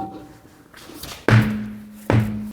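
Two sharp, heavy bangs on a frozen-on wheel of a Jeep Patriot, struck about a second apart close by in a garage, each ringing briefly with a metallic hum.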